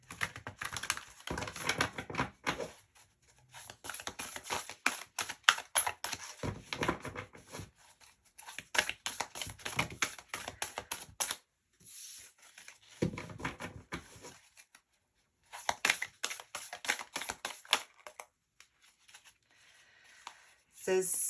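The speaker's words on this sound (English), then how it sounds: "So let's get some spirit animal oracle cards. And we'll just get a couple of these." Spirit animal oracle cards are shuffled and drawn by hand: soft, rapid papery riffles and flicks come in bursts with short pauses between them, recorded close and fairly quiet, and no one speaks.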